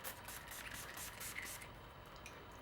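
Urban Decay B6 Complexion Prep Spray hisses from its pump bottle in a few short, quiet misting puffs.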